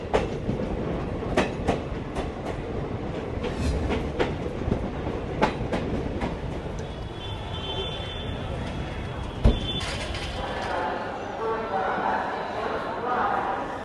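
A passenger train in India rolls along the rails at Vidisha, heard from inside a crowded general coach: steady rumbling with rhythmic clickety-clack jolts, while voices murmur in the background.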